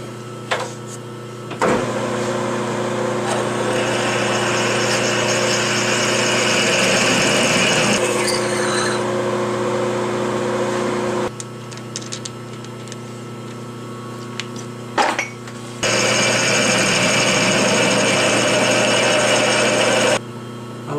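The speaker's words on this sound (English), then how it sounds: "I'm going to put a counter bore in the end of the rod of the tube to give it a thinner cross section." A counterbore being machined into the end of a chrome-moly tube on a metal lathe or mill: steady tonal whine of the running machine with a long cutting pass, a brief pause, then the tool resumes.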